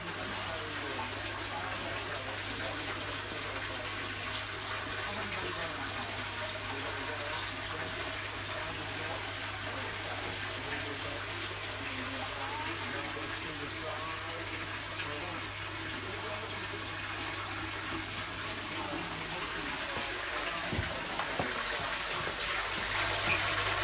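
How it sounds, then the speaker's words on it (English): Cold fresh water gushes steadily into a fish tank during a water change, a continuous close rushing pour that runs the whole time, with a bit of handling noise near the end. "I'm adding cold water because it's fresh water"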